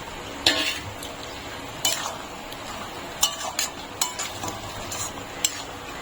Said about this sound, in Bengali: বড়াগুলো দিয়ে ভালো করে নাড়িয়ে নিতে হবে